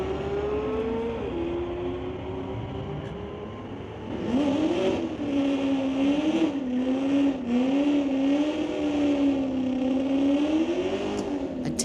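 A Camaro and a 2023 Corvette in a street-legal drag race rumble at the line, then rev hard and accelerate away. The engine drone rises and wavers under a faint announcer's voice.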